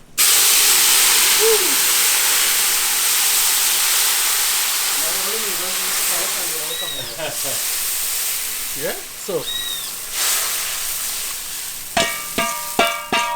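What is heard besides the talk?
steam hissing as liquid hits hot cooking pot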